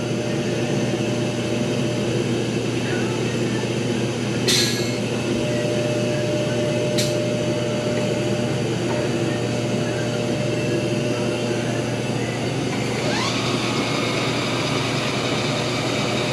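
An LS engine runs steadily on a dyno inside an engine shop, a loud, constant droning hum with a few brief sharp clicks over it and no voices.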